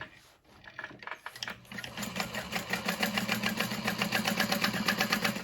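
A domestic sewing machine runs steadily while basting the lining of a Gunther bag in place at the top, its rapid needle stitching forming a close, even mechanical chatter after a few brief starts.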